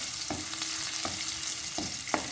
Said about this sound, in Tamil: உள்ளியை வடிவா வதக்கி விடுவோம்.